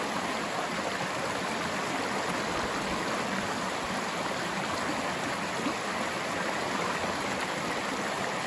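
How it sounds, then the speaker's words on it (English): Bubbling rapids of a cataract on a cyclone-damaged river rush steadily and loudly, a dense continuous wash of churning water with no voices over it. "This one's called the Champagne Cataract because it makes a whole lot of bubbles."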